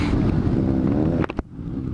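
A group of Dafra Next 250 motorcycles, along with a Ninja 250 and a Bandit, riding together: a dense, steady engine roar with wind buffeting. It breaks off abruptly near the end into a quieter rumble.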